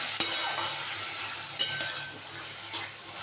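Fried potatoes are stirred into greens cooking in a pan. A utensil scrapes and clinks a few times over a steady, soft sizzle.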